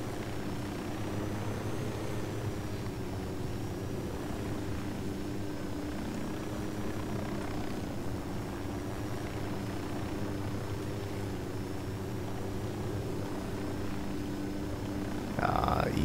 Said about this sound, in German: ich mache das wieder mit dem Helikopter